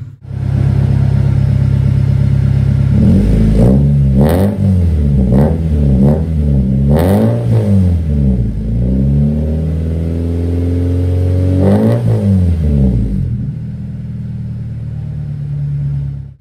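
A 1996 Honda Civic Ferio with a Spoon exhaust idles, then revs repeatedly in short, loud throttle blips up close, settling back to a steady idle afterward with no talking.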